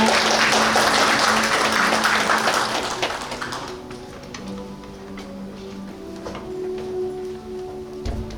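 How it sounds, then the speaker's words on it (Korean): A seminar audience gives a speaker a warm round of applause as he takes the stage; the clapping is dense at first, then thins and fades after a few seconds into quiet room tone with scattered taps. "여러분 따뜻한 박수로 맞아주시기 바랍니다."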